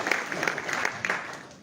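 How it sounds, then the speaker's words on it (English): Brief, fairly quiet burst of audience clapping at a public meeting, scattered hands over a murmuring room, tapering off within a couple of seconds. "Give her a clap for doing it."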